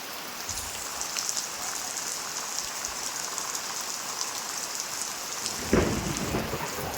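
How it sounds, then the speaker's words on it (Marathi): Heavy rain pours steadily, close and loud, with rolling thunder and a sharper low crack near the end, and no talk over it. "वीज बघा कडकडत आहे इकडे खूप कडकडत आहे इकडे एवढा पाऊस आला आहे"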